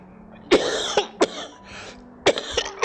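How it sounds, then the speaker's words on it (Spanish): A series of harsh, close coughs, several sharp bursts separated by short pauses, with no talking. "Estamos con la tos"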